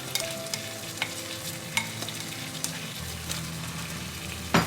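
Seafood black rice is stir-fried in a pan, a steady sizzle with scraping spatula strokes and clinks close by, no speech.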